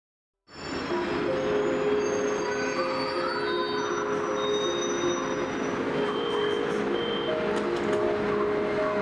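Beijing metro train running, a loud, steady rumble that starts abruptly and holds, with sustained metallic wheel squeal and whining tones riding over it, close and with no talk.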